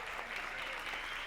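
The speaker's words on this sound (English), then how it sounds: "So please give yourself a round of applause." Applause from a crowd, a dense patter of clapping hands sustained throughout at moderate distance.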